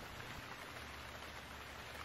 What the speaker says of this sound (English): it's supposed to rain all day